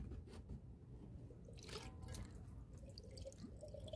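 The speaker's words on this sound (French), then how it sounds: "on va remettre de l'eau." Water trickling and dripping as it is poured into the cooling system of a Peugeot 106 1.1, faint and close, with a few small splashes and a thin steady flow.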